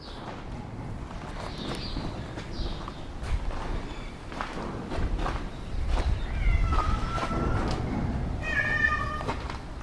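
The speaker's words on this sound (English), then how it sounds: "Bloody cat sleeps in the shed." A cat meows a few times nearby in a shed amid rustling and footsteps, with the meows growing clearer toward the end.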